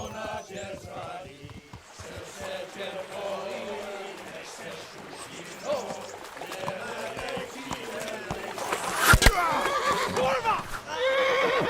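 A horse neighs and whinnies in Kingdom Come: Deliverance amid medieval game ambience, with hooves clopping, background voices and music, and a loud, sharp cry near the end.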